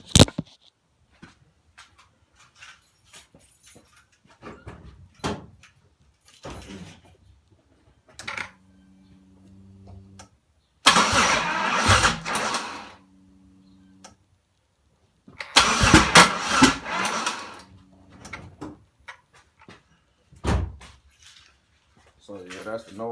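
A 3800 Series 3 engine cranks in several bursts with a harsh, uneven churning but fails to start, separated by quiet gaps and faint beeping; a person speaks between attempts.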